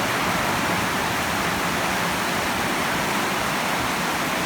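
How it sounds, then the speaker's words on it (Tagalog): Heavy rain pours steadily during a storm, a dense, unbroken roar of close-up downpour with no voices over it. "Ayun na pre, lumalakas na ang ulan."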